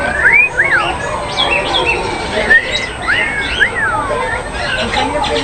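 A pet bird at a zoo aviary, a cockatiel of cinnamon pearl pied colouring, gives repeated rising chirps and whistles amid a noisy backdrop of other birds, with people talking nearby.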